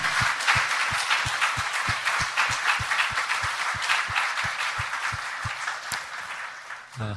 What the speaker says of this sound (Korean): 우리 박수 치면서 하나님께 찬송과 영광을 드립니다